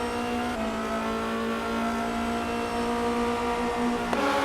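Formula Renault race cars run into a hairpin on a racing circuit, a steady, loud engine drone holding for several seconds with a sharp shift near the end, without talk.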